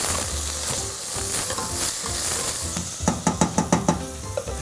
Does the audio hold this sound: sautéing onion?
yes